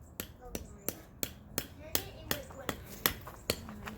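A series of sharp, evenly spaced strikes, about ten in four seconds, ring out close by as a hammer drives a spike into the ground while edging a new lawn.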